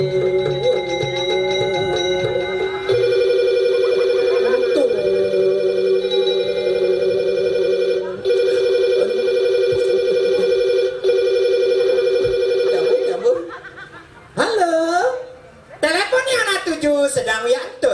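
A telephone rings with a steady electronic tone for several seconds, pauses briefly, then continues, and a voice speaks near the end.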